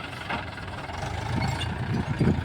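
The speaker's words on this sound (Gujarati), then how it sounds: "અત્યારે અહીંયા લોડર ચાલુ છે" A loader's engine idles at a dirt site where ground is being levelled and soil heaps moved, giving a low, steady mechanical rumble with slight surges, moderately loud and with no voices.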